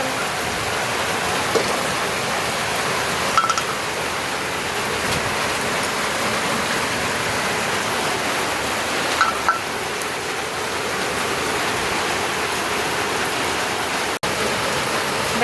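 Steady, loud rainfall pours down continuously in a dense, even wash of noise with no talking.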